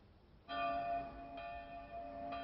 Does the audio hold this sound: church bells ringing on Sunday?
yes